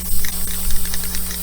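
Spray lacquer hisses steadily from a can onto a miniature figure in short, slightly pulsing bursts, up close.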